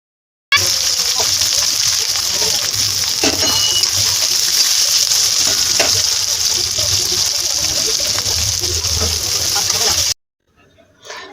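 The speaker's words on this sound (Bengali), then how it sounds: "যতগুলো পেঁয়াজ আছে সব কটা দিয়ে দেবো তেলের মধ্যে একদম লাল লাল করে ভাজবো" Chopped onions hit hot oil already tempered with whole cumin seeds in a pan and fry toward deep red, giving a loud, steady, close sizzle for about ten seconds that cuts off abruptly.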